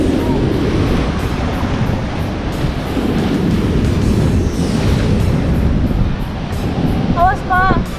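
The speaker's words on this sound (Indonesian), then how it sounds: "Ombak yang sedang pasang semakin membuat saya khawatir" High tide ocean waves crash against a sea cliff, a loud continuous rumbling surge mixed with wind buffeting, while a person's voice is heard near the end.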